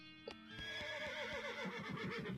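A horse in the video game West of Loathing lets out a single bright, drawn-out neigh that wavers downward for about two seconds, clear and close with no talking.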